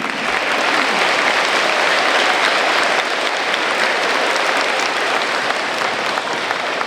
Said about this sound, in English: How about a round of applause for Ms. Corral?